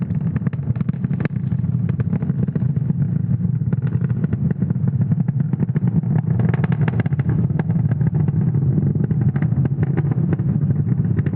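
A SpaceX Falcon 9 rocket ascending on a Starlink mission, a steady, dense low rumble with crackle that continues unbroken and fairly loud throughout.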